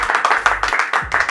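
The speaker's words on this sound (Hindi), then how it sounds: "तालियां।" Short burst of audience clapping for a rap star guest, with quick, uneven claps in a loose rhythm, close and fairly loud.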